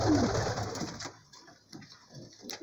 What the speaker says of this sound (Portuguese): Os pombo correio aí, ó.